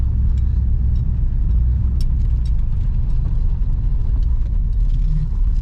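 An old car driven again after sitting for 17 years gives a steady, loud, low engine and road rumble from inside the cabin, continuous and unbroken, with no voices.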